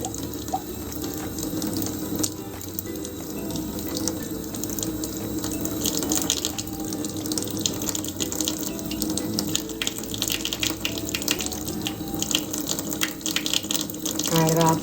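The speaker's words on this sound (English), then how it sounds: "now then I'm going to add warm water." Warm tap water runs into a plastic dye bottle holding black dye powder, a steady close splashing flow that continues throughout with a light hiss, and a voice speaks briefly over it.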